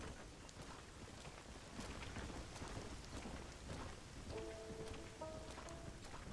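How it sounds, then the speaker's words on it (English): Heavy rain pours in the Red Dead Redemption video game, a dense steady hiss with low rumbling, while a brief tonal hum rises near the end; no voices. "Oh, it is bucketing down."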